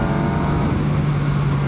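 2019 Yamaha MT-09 motorcycle engine pulling hard under acceleration, a loud, steady, close droning roar with wind rush.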